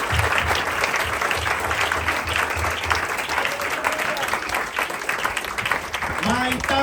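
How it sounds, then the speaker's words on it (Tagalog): A church congregation claps loudly and steadily in praise, dense sustained applause with voices and a low hum underneath that carries through without pause. "Lakas po na palakpak para sa ating Panginoon"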